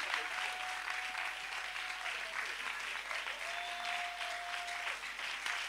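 Church congregation claps loudly and steadily in worship, a dense sustained wash of applause with a faint held tone running through it.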